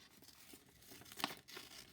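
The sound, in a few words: scissors cutting paper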